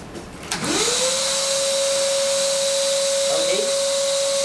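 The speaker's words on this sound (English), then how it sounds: "We can connect a vacuum cleaner to reduce the dust." A loud vacuum motor roars steadily after a short start-up, with a sustained whine and a faint power-tool noise briefly joining partway through as the vacuum extracts dust from the tool.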